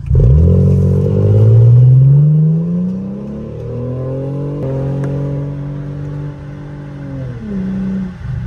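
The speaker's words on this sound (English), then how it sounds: "I'm finna peel out right now" A W210 Mercedes car peels out and accelerates hard, its engine revving up loudly close by, easing through a gear change, then climbing again before a dip, with no talking.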